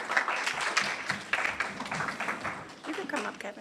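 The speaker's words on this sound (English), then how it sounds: "Please give him a round of applause as he comes forward." Thin, uneven applause from a modest audience at a club luncheon, scattered claps mixed with murmuring voices and speech.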